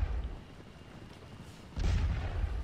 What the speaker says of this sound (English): The sound of French cannon bombing away over here.